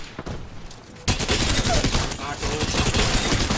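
Gunfire in Apex Legends, a sudden dense burst of rapid shots that starts after a quieter second and continues loud and continuous to the end.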